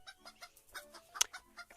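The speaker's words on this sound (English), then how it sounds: "It is chickens!" Chickens clucking in the video game Mushroom Oasis, a quick run of short, rhythmic clucks with one sharp louder squawk near the middle, no voices.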